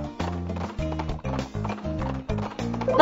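A cartoon unicorn gallops with quick, bright clip-clop hooves in a steady rhythm under a musical backing, loud and close, with a brief neigh-like flourish near the end.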